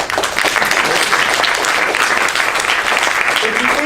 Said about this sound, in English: Can you applause?